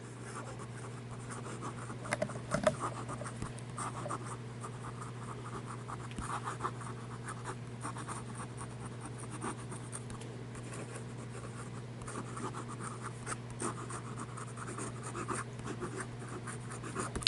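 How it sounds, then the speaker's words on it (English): Fast writing with an Edison Collier fountain pen in Persimmon Swirl on paper, a continuous soft scratchy scribble running for the whole stretch over a steady low hum, close and quiet with no talk. "Oh, you're going to do some fast writing?"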